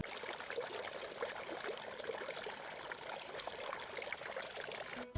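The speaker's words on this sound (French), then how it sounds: "Regardez, c'est une rivière." A river's flowing water, a steady broadband rush with a faint trickle running close and even throughout.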